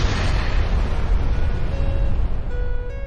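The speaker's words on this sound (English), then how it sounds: "He begins to lower himself down the side of the building and is about halfway down when the bomb goes off." A bomb blast on the side of a building gives a dense, loud, sustained roar of low rumble and broad noise, with faint tonal ringing fading in near the end.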